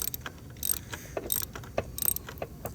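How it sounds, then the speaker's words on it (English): Koken ratchet clicking in quick bursts while loosening the number 3 spark plug on a Camry V6 1MZ-FE, worked through a wobble extension; close, crisp pawl ticks in a steady, uneven rhythm with no talking. "That Koken ratchet's really nice."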